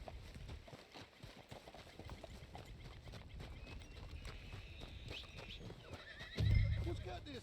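A spooked horse in Red Dead Redemption 2 whinnies and snorts nervously over soft hoof clops, with a louder burst toward the end; quiet voices murmur in the background.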